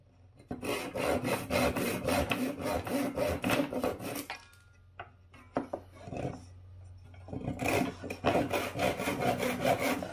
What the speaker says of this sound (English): I need to cut off these last two dowels and I am finished.